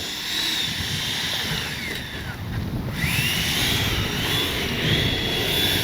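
An FMS 70mm F-18 RC jet flies in a crosswind, its ducted-fan engine whining steadily at a distance, with the pitch dipping and rising as it passes, a continuous roar mixed with wind noise.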